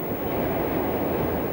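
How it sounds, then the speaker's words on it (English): A standard gauge train rolls along the rail track, a loud, steady, dense rumble of wheels and carriage noise with no pauses and no voices. "a lot of the clickety-click that we're used to will go"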